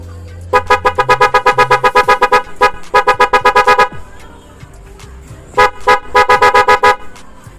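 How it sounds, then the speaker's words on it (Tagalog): A loud snail horn wired directly to a battery honks in rapid repeated bursts, two long runs of short blasts separated by a pause, close by. "Ngayon naman, meron po tayo ditong snail horn. Tetestingin naman po natin."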